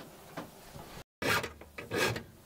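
A hand file rasps across the teeth of an old Japanese ryoba pull saw being resharpened, two or three short gritty strokes close up with a brief silent gap between them.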